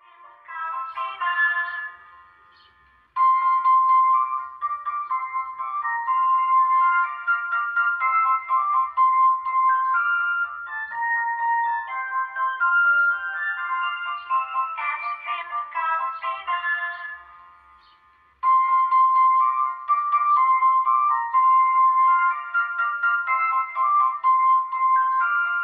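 A homemade mini horn speaker with a 2-inch driver, powered by a TPA3116 amplifier, plays a bright, thin melodic tune, loud and close, in two long stretches split by a short pause.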